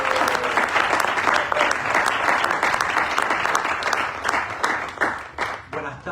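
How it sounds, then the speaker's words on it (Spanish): An audience at a Kerouac poetry festival in New York claps warmly, a full burst that thins into scattered individual claps as it winds down. "Un fuerte aplauso para Patricio Ferrari"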